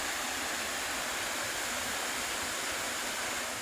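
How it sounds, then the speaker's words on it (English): The Virje waterfall (Slap Virje) roars close by as a broad, unbroken rush of falling water, steady and loud from start to finish, with no voices over it. "we are near the waterfall"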